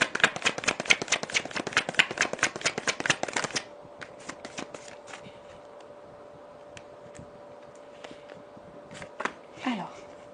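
Tarot cards are riffled and shuffled in rapid, crisp flutters for a few seconds, then give way to sparse soft card taps and slides over a faint steady hum.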